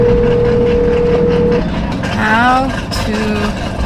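A loud engine rev from an 800-horsepower Audi R8 at a car meet, a droning roar whose pitch climbs and falls, heard close and mixed with people talking.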